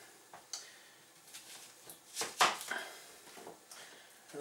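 A knife chops an onion finely on a cutting board: a few scattered, sharp, close taps, one louder cluster in the middle, with quiet pauses between strikes and no talking.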